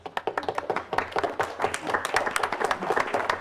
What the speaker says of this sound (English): Okay, you can clap now.